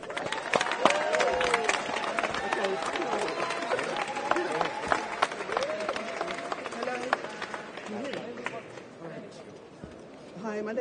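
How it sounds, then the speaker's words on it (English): An outdoor crowd at a protest rally against police killings claps scattered and unevenly amid chatter and shouting voices, the mix busy and moderately distant, thinning toward the end. "Give her some applause."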